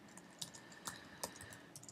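Fingers type on a computer keyboard in quick, irregular bursts, the keys clicking softly in a quiet room with a few sharper taps standing out.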